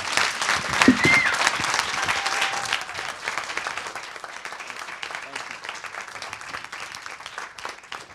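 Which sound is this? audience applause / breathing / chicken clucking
audience applause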